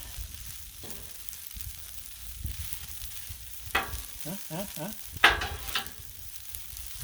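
Metal spatula scraping and tossing seasoned fun noodles for a beef stir fry on a Blackstone griddle, with a low sizzle underneath and a few sharp scrapes and quick clustered clacks, no talking.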